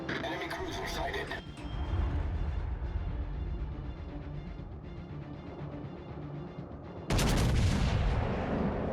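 Naval gunfire in the World of Warships: Legends video game: heavy broadband blasts open the scene, a continuous battle rumble follows, and a loud renewed volley hits near the end.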